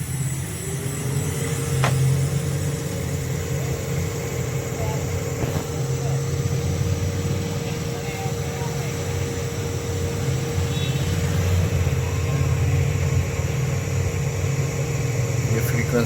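A 2.2 kW electric motor driven by a Mitsubishi F700 VFD during fault repair, a steady hum with a faint tone that rises as the drive frequency ramps up, under ongoing talk in a workshop.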